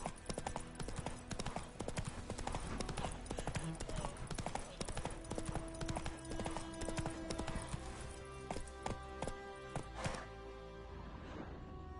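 The horse Roach gallops in The Witcher game, rapid rhythmic hoof clip-clops hammering steadily and close for most of the stretch before slowing near the end.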